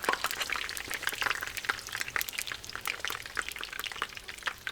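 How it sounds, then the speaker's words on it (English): Buñuelos crackle and sizzle in hot oil, a dense, steady frying hiss full of quick pops, close up and alone with no talk. "Let it fry for about 30 seconds on one side"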